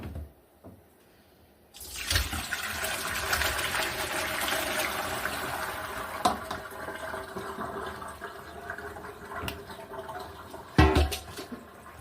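Hot water drains off salted squash and other vegetables for pickling. After a quiet start, a sudden gush of pouring, splashing water runs on, with a few clinks and clatters of the container near the end.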